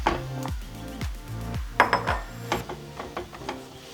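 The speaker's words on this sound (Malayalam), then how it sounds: "ഈ പഴം കൂടെ ചേർത്ത് ശരിക്കും മിക്സ് ചെയ്യാം" A spoon scrapes and knocks against a pan while mashed banana is stirred into a spicy-sweet banana cutlet mixture, giving a series of close metallic clinks and scrapes with no talking.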